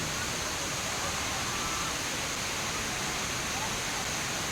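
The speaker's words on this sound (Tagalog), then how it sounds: "Pero ang laki ng falls, oh." A large waterfall heard as a steady, loud broadband roar of falling water, continuous and unbroken with no distinct splashes standing out.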